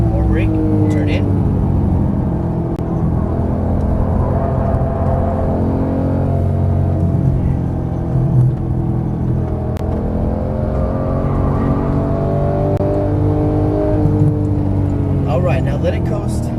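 Porsche 991 GT3 engine droning continuously on a race track, a loud steady in-car hum with shifting tones as it downshifts, brakes and upshifts, while an instructor talks over it throughout.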